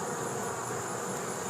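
A honeybee carrying pollen on its back legs buzzes close by, a steady continuous drone outdoors among flowers.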